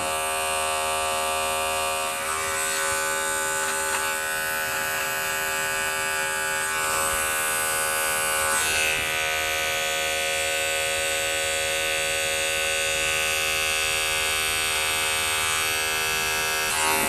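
Steady electric buzz of an Andis hair clipper cutting hair, a constant motor hum with bright harmonic whine running unbroken from start to finish, close and alone without talk.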